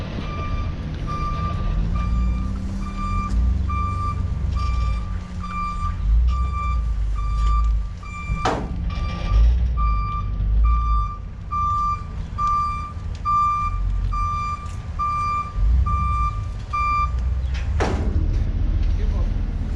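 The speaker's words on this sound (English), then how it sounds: "Looks like I'm parking the truck." An old truck backs up to park, its reversing alarm beeping steadily at an even pace for most of the stretch over a low engine rumble, with a couple of sharp knocks partway through.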